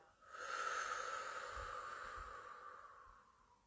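A single long, steady inhale through the nose, soft and close, with a smooth airy hiss lasting about three seconds and no speech.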